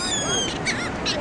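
Birds call on a very windy beach, a few shrill cries rising over steady, loud wind roar.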